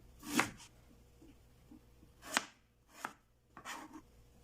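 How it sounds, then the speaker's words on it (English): Knife slicing through ginger on a cutting board, four crisp separate chops spaced unevenly, close and fairly quiet, with no talking. "So I'll take a slice from my ginger."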